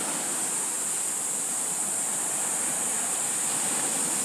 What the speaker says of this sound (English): these waves were getting really, really big